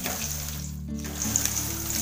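Okra fries in a pan, crisping with a steady soft sizzle and light crackle, close and continuous with a small brief dip in the middle.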